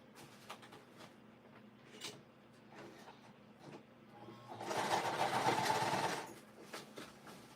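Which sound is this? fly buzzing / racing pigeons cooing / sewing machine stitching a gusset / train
sewing machine stitching a gusset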